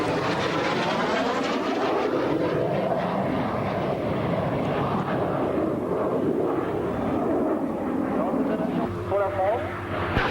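A combat jet performs a manoeuvring display at a 1993 air show at Air Base 103 Cambrai, its loud, continuous engine roar filling the whole stretch, with a commentator talking over it throughout.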